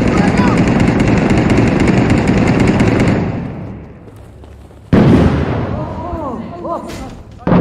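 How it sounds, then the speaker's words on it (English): Grenade blast in Six Days in Fallujah, a co-op military shooter: dense, loud automatic gunfire for three seconds fades to quiet, then a sudden heavy detonation at about five seconds rings out and decays under scattered shouting voices. "I'm throwing a grenade."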